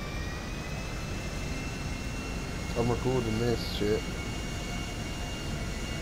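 Jet airliner in a video game set in Los Santos, making an emergency landing sideways after losing all control: a steady engine drone and rushing air run throughout, with a voice speaking briefly in the middle.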